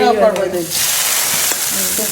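Dal tempering hitting hot oil in a kadai gives a loud, close sudden sizzle that settles into a steady frying hiss, with a voice talking over the start.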